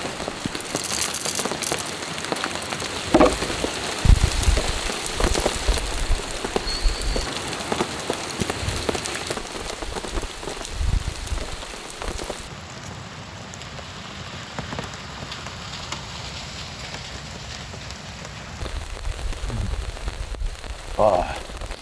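Steady rain patters on surfaces around a Jeep camp in the Vermont Green Mountains in springtime, a dense, even hiss with scattered closer drips and a few faint mechanical clicks.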